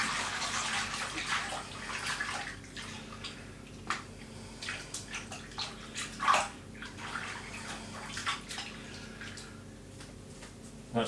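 Tap water runs steadily into a basin while a ball python is washed off with a little hand soap, a constant faint splash with occasional louder drips and sloshes.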